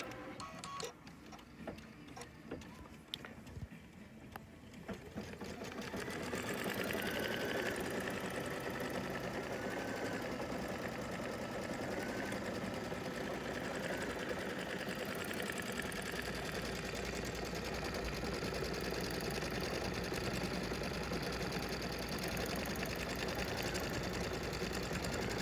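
A Bernina embroidery machine stitches out a quilting border, its fast, steady mechanical whirring and needle chatter starting after a few quieter seconds and running continuously nearby.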